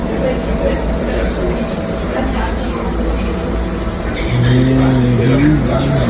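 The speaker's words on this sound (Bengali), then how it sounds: "আমি দেখাইমো যে ডিএলআর ট্রেনটা কিরকম মানুষ ছাড়া চলে" A driverless DLR train running, heard as a steady, loud rumble and rolling hum from on board, with a rising motor whine and tonal sweep near the end.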